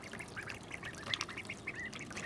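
Ducks quack in short, scattered calls near a new duck pool beside a self-draining duck house, several birds overlapping faintly over steady outdoor background noise.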